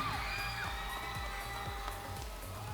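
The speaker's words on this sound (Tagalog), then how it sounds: "Ang lakas ng hiyawan." A large audience cheers and shouts loudly and continuously at the Naga College Foundation Mr and Ms Intramurals 2023 pageant, a dense, sustained roar of crowd voices.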